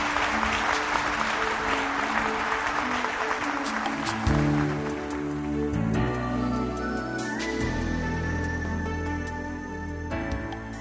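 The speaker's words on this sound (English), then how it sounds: "Why don't you give yourself a round of applause?" Audience applause at a motivational talk: crowd clapping fills the first four seconds, then gives way to an upbeat stage music sting with sustained tones that plays out to the end.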